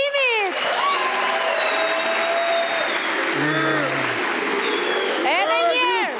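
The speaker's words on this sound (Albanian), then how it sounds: "Një duartrokitje ju lutem për dyshen e integrimit." A studio audience on Voice of Albania applauds a duo with steady, dense clapping throughout, while a voice speaks and calls out over it.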